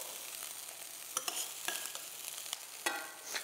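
Onions brown in a pan for meatloaf, a soft steady sizzle broken by repeated sharp scrapes and stirs of a utensil, with no talk.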